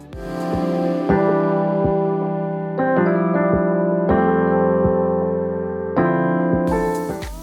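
Soft, relaxed lo-fi music with warm sustained chords and gentle, evenly spaced beats, mellow and unhurried throughout.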